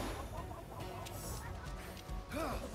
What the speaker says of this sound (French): je me fais haïr par une poule